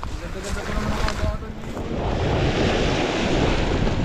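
Strong wind roars across the microphone over crashing sea waves, the rushing noise growing louder and more constant partway through.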